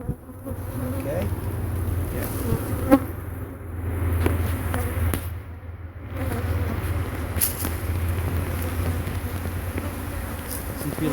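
Honeybees drone continuously around a newly set-up beehive, a close, dense buzzing that swells and fades as individual bees pass near.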